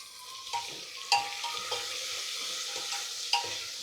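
Tomato pieces fry in a pan with onion and ginger-garlic paste for a prawn pulao, a steady soft sizzle with a few light stirring scrapes and utensil taps, close and fairly quiet, no talk.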